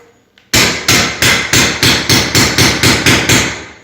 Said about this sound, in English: we're going to put the pull bar on the end, and we're going to take our regular hammer because it's a little easier